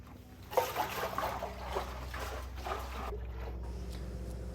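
Baking soda and distilled water slosh and splash inside the fuel tank of a 1978 Harley-Davidson Shovelhead Lowrider as it is shaken, in repeated close bursts of liquid churning.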